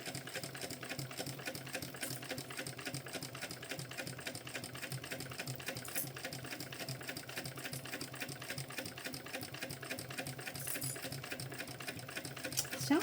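A sewing machine runs steadily, stitching a fabric panel for a small backpack, with a needle said to feel sticky. Its rapid, even mechanical chatter is close and continuous from start to finish.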